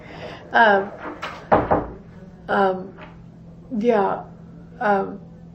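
A door closes once with a solid thud in a room while people talk nearby, their voices around and over the brief knock.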